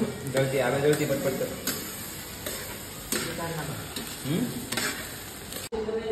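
Egg bhurji frying and being stirred in a pan in a hostel kitchen, with rhythmic spatula scrapes and clinks over a light sizzle while people talk.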